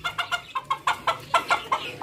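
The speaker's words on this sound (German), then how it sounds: "Jeden Tag müssen die Hühner rein um die Uhrzeit." Chickens clucking in a steady run of short, close calls, about a dozen bursts over two seconds, as they are herded into their coop at evening, with a faint low hum beneath.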